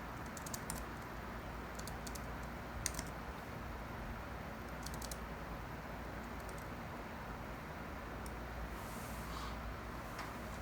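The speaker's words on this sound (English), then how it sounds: "So I can just type in skim doctor and hope something pops up." Sparse keystrokes on a computer keyboard typing a product name, a few light, quick clicks scattered over a steady, fairly loud background rumble, without speech.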